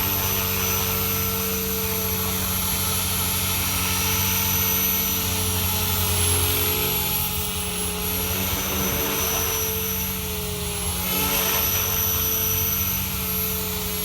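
A Blade 500X RC helicopter idles with a steady, loud whine, its layered motor and rotor tones holding constant throughout with no voices.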